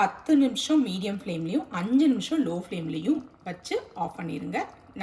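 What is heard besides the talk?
No distinct noise like a dog, phone or traffic.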